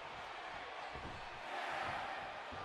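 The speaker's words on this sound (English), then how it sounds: "we heard a crowd chant for Edge" Steady, dense crowd roar from a WWE 2K14 Royal Rumble wrestling match, a video game arena audience chanting for a wrestler; the noise holds constant and loud throughout, swelling slightly toward the end, with no clear speech over it.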